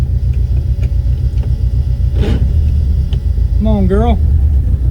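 Turbocharged Ford Pinto wagon engine running slightly rough as it moves, a loud steady low rumble close by, with a short burst of noise midway and a person speaking briefly near the end.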